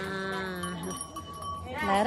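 A goat's wavering bleat rises and fades, followed by another starting at the end, close by with faint background noise.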